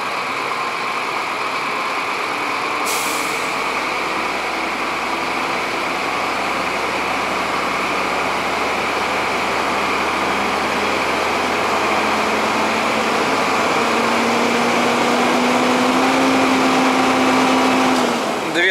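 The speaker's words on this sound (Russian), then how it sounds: "Кладем ногу на педаль газа, повышаем обороты, смотрим, как растут." A car engine idling steadily up close, then its pitch climbing as the gas pedal is pressed and revs rise toward about 2000 rpm, holding a strained higher tone near the end.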